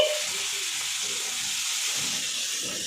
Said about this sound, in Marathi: आता चांगलं टमाटर परतून घेते